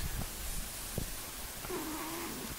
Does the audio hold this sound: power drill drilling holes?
no